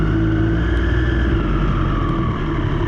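A Triumph Street Triple 765 RS motorcycle idles and trundles at low speed through a U-turn, a steady close engine rumble that holds an even pitch with no talk.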